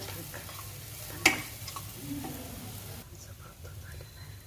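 Eggplant masala mixture being sautéed and stirred in a pan, a soft steady sizzle with scraping stirs and one sharp clink of a utensil early on, quiet and close.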